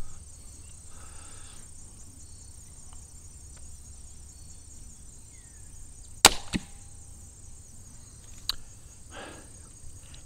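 Slingshot crossbow loosing an arrow with silencer pads fitted on the string and bands: one sharp, loud snap with a brief follow-up thump, then a fainter tap a couple of seconds later, over quiet outdoor insect chirring.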